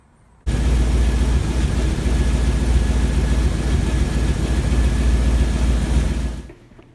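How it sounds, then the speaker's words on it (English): A car engine with an automatic TH400 transmission idles steadily for several seconds with a low, even rumble and faint mechanical ticking from the cam, then cuts off abruptly at the end. "I had the car running so you could kind of hear the cam and stuff"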